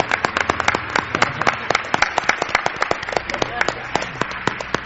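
A radio studio audience claps in a dense, lively burst of applause, with sharp individual claps standing out close up as the sound keeps going steadily from start to finish.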